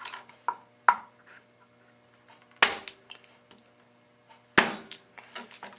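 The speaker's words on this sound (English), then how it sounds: "And now for garlic, you just crush." Garlic cloves crushed with sharp cracking impacts, a few distinct hard hits spaced apart with smaller crackles between, close and clear while making avocado, mango and tomato salsa.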